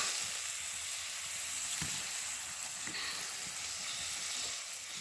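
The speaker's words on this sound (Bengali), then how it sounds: "একটু ভেজে নেবো এইগুলো" Spice mixture and vegetables frying in a pan for a fish curry, a continuous close sizzle with occasional stirring scrapes and small pops.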